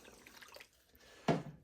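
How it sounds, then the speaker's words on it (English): Water is tipped out of a cup into a tub while gold panning. There is a soft trickle, then one short, distinct splash near the end. "I'll just take this material or the water and I'll dump it in this tub right here."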